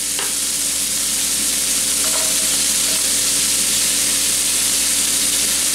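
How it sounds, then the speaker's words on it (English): Onions fry and get stirred in a skillet for a sloppy joe potato dish. A loud, continuous sizzle runs throughout, broken by a few stirring scrapes near the start, with no talking. "let's go ahead and put our onions in"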